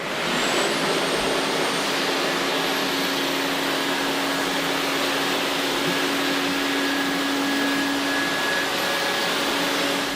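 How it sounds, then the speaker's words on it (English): A wet vac pulls dirty cleaning solution up off a restroom tile floor, a steady, loud motor roar with hissing suction that runs unbroken and close throughout. "we're going to pick up the dirty solution with a wet vac or a wand attachment"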